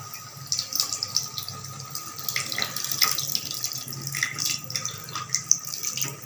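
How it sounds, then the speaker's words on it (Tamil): Tamarind water poured into a simmering potato and brinjal gravy, a steady close splashing trickle that runs for about six seconds with no talk. "இதில் வந்து லைட்டாக புளி தண்ணி ஊற்றிக்கலாம்."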